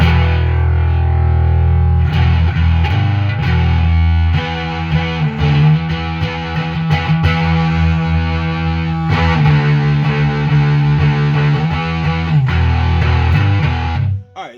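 Electric guitar played through a Behemoth II bass overdrive pedal, a thick, compressed distorted tone sustaining loud chords and riffs continuously before cutting off at the end.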